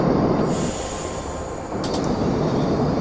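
A train runs along the track in the Railworks train simulator video game, a loud continuous rumble of rolling wheels with brief high squeals, steady and close, with no speech.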